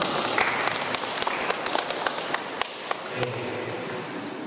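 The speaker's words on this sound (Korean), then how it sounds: "하나님께 영광의 박수를 드리겠습니다." A church congregation at a Korean Sunday service claps together, a dense burst of applause that thins out toward the end.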